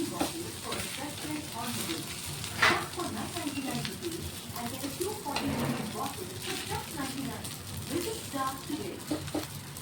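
Pesarattu, a green gram dosa, sizzles and crisps on a hot pan in a steady frying hiss with occasional spatula scrapes, while a voice speaks over it.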